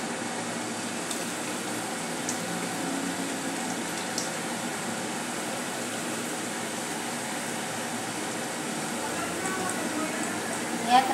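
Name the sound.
potatoes deep-frying in hot oil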